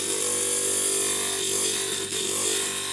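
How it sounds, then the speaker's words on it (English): A stained glass grinder runs steadily while grinding down a piece of vitreous tile, a continuous loud motor whine with a grinding rasp that stays even throughout. "let's say we're going to grind this vitreous tile down"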